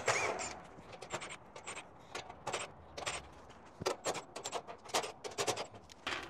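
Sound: screws being unscrewed from an A/C unit's top cover

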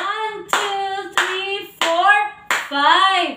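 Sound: class clapping five claps

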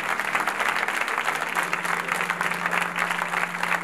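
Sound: audience applause

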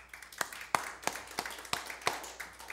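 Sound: congregation hand clapping in church

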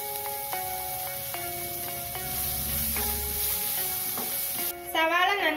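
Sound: sautéing chopped onions with kasuri methi and bay leaves

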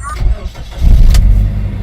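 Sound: Toyota Fortuner 2700 cc LPG engine starting

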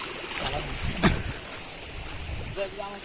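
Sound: flowing stream of water

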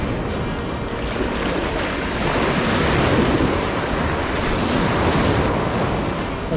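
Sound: surf waves crashing on beach

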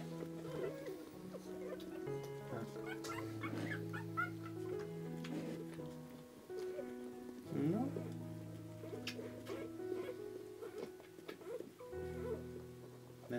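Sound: Basenji puppies whimpering and yipping

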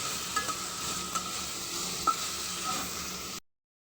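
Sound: cauliflower and potatoes frying and being stirred with spices

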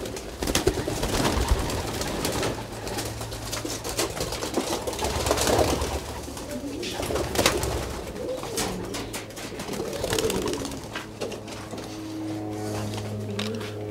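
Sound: racing pigeons cooing in a loft

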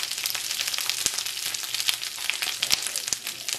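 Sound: asparagus sautéing and popping in a pan

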